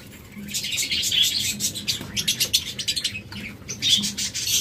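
Pet lovebirds and other caged birds in a bird shop give rapid, high chirps and tweets in clustered bursts, fairly close, with short pauses between and a faint low coo underneath.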